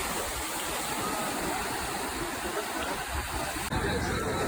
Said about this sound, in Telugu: నేను ఈ ఒడ్డున ఉండి అలలను, ఆ సౌండ్ను ఎంజాయ్ చేస్తున్నాను నేను.